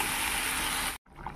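Broth poured into a pan of frying potatoes gives a steady loud gushing splash that runs for about a second, then stops abruptly and leaves a quieter simmer.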